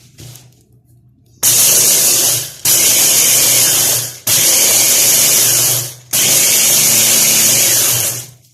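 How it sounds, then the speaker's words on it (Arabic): Biscuits coarsely crushed in an electric chopper for a coconut basbousa, four loud pulsed bursts of whirring blade noise separated by brief pauses, close up with no talking. "هرست شويه البسكوي ديالي، غادا نهرمشو، ما غاديش نطحنو كومبليتوم"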